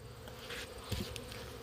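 Honeybees buzz steadily at an opened six-frame hive, a faint, close, continuous hum with a few louder passes of bees near the microphone.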